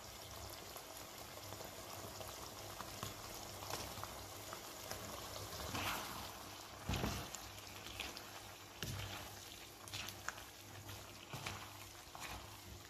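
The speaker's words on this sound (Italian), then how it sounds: "adesso posso spegnere il gas sotto la pasta e scoliamo le farfalle in padella" Cooked farfalle pasta and its water are drained into a sauce pan on a gas stove, giving a continuous watery splashing and bubbling wash with a few louder surges partway through.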